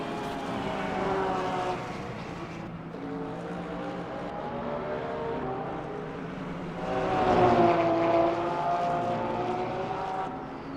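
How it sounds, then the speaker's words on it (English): A Porsche 911 GT3 engine in the Le Mans Ultimate racing game at Spa holds a steady high-revving drone, with pitch sweeping up and down and swelling louder near the end. "absolutely revving the gearbox and the pistons and everything out of that little 911"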